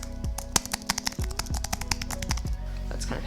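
Typing on an older-style MacBook keyboard, a dense run of fast, crisp key clicks close by, with no talk.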